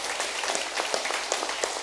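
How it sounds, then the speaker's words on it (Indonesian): A church congregation claps during a sermon, a dense, steady patter of many hands at moderate loudness with no talking over it. "Kita beri tepuk tangan dulu untuk kebenarannya."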